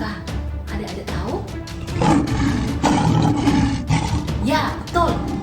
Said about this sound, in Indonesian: Itu suara singa.